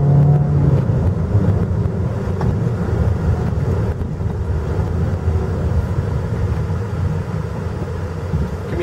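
A JAC T5 SUV with a 1.5 flex-fuel multivalve engine drives along while its motor hums and climbs in revs. The drone is steady and moderately loud from inside the cabin, and nobody speaks.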